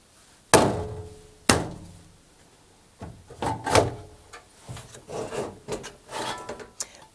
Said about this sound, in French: Je vais d'abord soulever l'ensemble pour remplir ces trous ici, puis incliner l'ensemble et le faire venir vers moi